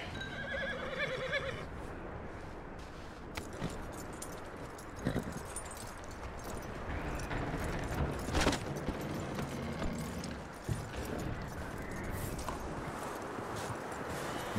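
Horse hooves clip-clop in the video game Red Dead Redemption 2, faint uneven steps amid game ambience with scattered clanks and jingling tack, a brief whinny early on.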